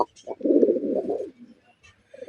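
A pigeon kept at a breeder's farm with a nesting pair gives a single close, low, throaty coo lasting about a second, in a quiet setting.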